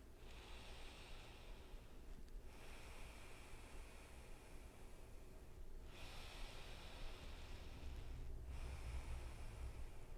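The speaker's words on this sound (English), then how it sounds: "breathe just in and out of your left nostril" Slow nasal breathing through the left nostril during a yin yoga session, three long airy inhale-exhale cycles, close and soft with a steady breathy hiss and no talking.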